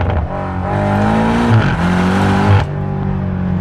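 A BMW F90 M5 Competition pulls hard in first gear, its engine a loud, close, steady roar with a brief dip and recovery midway, then cutting off near the end.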